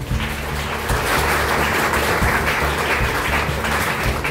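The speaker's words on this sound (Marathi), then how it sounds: "तर या गुरुसाठी एकदा जोरदार टाळ्या होऊ द्या" Loud, sustained applause from a college audience at a Teachers' Day function honoring a teacher, dense continuous clapping from a large crowd with a faint tonal hum running underneath.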